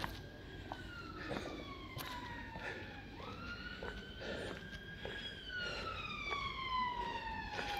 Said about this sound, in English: it's another police car or ambulance or fire engine making a din.